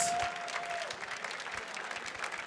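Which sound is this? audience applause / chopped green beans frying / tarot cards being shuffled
audience applause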